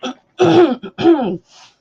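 Someone with an allergy cough clears their throat in a couple of short, rough bursts, close up, followed by a faint breathy exhale.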